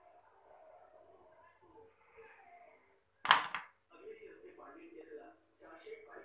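A knife cuts through a small three-ingredient tiffin snack into four pieces, making one sharp, close clack against a plate that stands out above soft, steady talk.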